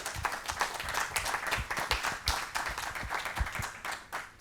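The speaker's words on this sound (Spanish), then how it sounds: "Me gustaría que le diéramos un aplauso a todos." A small audience at a Drupal community conference in Santander claps for the contributors, with individual claps sounding distinct and uneven in a modest, close-miked burst of applause.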